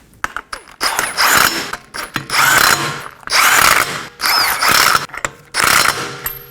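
Five lug nuts are snugged onto a 2020-2027 Toyota Corolla front wheel with a power tool, heard as a series of about five close, loud mechanical ratcheting bursts separated by short pauses.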